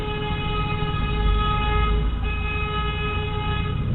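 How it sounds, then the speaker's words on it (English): Sustained horn blasts from vehicles driving past a home, a steady loud multi-tone honk holding for the whole stretch over a low traffic rumble, with no talking. "every single one of them was driving by honking the horn"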